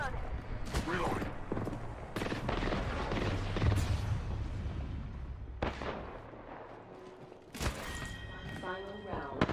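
Video game gunfire: sharp broadband shots and booms scattered across the clip, some spaced apart and some in quick bursts, with game voice lines and other background game sounds beneath.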